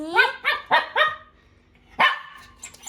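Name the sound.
dog barking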